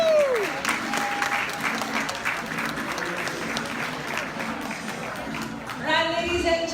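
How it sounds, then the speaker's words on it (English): Audience applause fills the hall after the delegates of the Miss Earth 2019 pageant are presented, a steady dense clapping throughout with music tones and a voice briefly over it near the end. "how about another round of applause for all the 85 delegates of Miss Earth"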